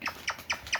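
Pet bird squawking indoors, four short sharp squawks in quick, even succession, fairly faint and without talk.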